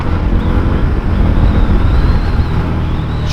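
Indian FTR motorcycle engine on a test ride: a loud, continuous roar mixed with wind rush, heard close and without talk.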